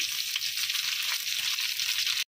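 Garlic, ginger, green chilli and onions frying in oil give a steady, loud, bright sizzle with no talking, cutting off abruptly at the end.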